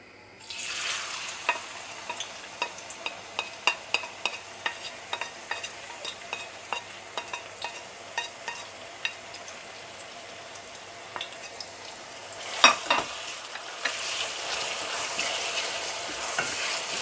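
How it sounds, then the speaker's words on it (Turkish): Steady sizzling of chopped onions frying in olive oil, with intermittent stirring clicks and scrapes throughout, rising to a louder crackle near the end. "Sonra iki büyük boy soğan doğradık. Küçük küçük. Onu ekleyeceğiz zeytinyağına."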